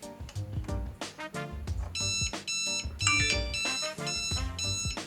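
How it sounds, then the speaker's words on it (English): Xiaomi smart gateway V3 hub sounding its alarm, a loud, rapid series of bright electronic beeps and tones in repeating patterns, continuous and close, with no talking. "the hub will make a beeping sound"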